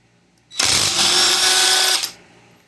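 A Ryobi PCL265 impact wrench with an impact socket hammers off a car's lug nut in one loud, continuous rattling burst of about a second and a half, close up, with no voices over it.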